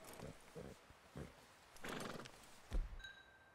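Horses in the Red Dead Redemption 2 video game, with scattered hoof clip-clops and a neigh amid game ambience, a sharp louder burst near the end, moderately close.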